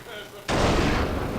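A single sharp pistol shot from an enemy in the game Bloodborne cracks out loud and close, its burst of noise hanging on as a sustained rumble afterward.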